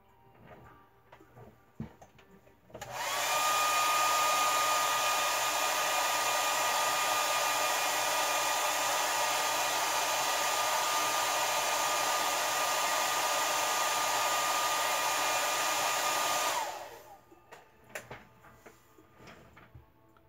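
A handheld hair dryer blows steadily on a handmade craft wand prop for about fourteen seconds, a loud, close, constant whoosh that switches on abruptly and cuts off cleanly, with quiet room sound before and after.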